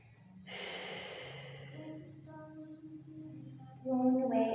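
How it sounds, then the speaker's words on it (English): Slow, audible breathing during a gentle yoga session, a long airy exhale followed by softer breaths, close and alone with no talking. "And just breathe here."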